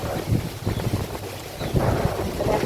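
Strong wind roaring steadily around a house being wrecked by the storm, with gusting buffeting and rumbling swells throughout, no voices.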